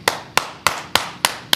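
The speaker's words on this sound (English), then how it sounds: "Round of applause." Six sharp, evenly spaced claps about three tenths of a second apart in a podcast studio, close and crisp with short decays and no talk.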